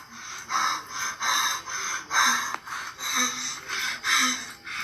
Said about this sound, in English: He's breathing so heavily.